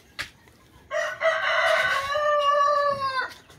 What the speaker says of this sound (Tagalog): Ayan, manok na po siya.